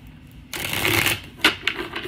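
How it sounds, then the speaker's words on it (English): Tarot cards are riffled and shuffled close up in a burst of crisp papery rustling, followed by a couple of quick snapping bridges of the deck. "let me shuffle."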